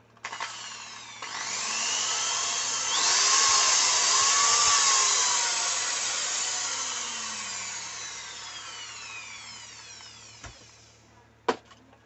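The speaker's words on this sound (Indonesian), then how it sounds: "Nah, coba untuk menyalakan bor." A power drill whirs up and runs steadily for several seconds, rising in pitch then winding down, followed by a couple of sharp clicks.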